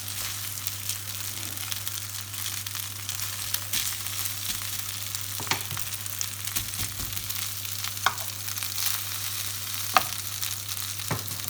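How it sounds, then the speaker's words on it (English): Chicken curry fries in oil in a pan, giving a steady, close sizzle with a few sharper crackles and stirring clicks over a constant low hum, with no voices. "you just know that it's going to fry nice"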